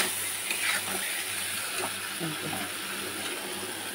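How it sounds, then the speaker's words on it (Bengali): Fish goes into hot oil in a pan for a Bengali curry with potatoes and sets off a loud, steady sizzling hiss that holds unbroken throughout, with faint kitchen clatter underneath. "এর মধ্যেই আমি মাছটা দিয়ে দিলাম"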